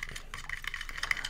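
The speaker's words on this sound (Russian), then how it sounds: "Сейчас все это тщательно перемешиваем до однородной консистенции" A spoon stirs a sauce mixture in a bowl in a student kitchen while making Spanish raxo, giving soft, irregular scraping and light clinks close by.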